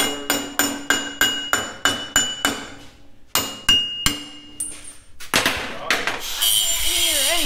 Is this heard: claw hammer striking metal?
yes